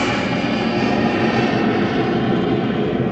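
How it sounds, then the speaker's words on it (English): A steady, loud roar of an airplane passing overhead, a continuous engine rumble that fills the whole moment without pause. "Aeroplane!"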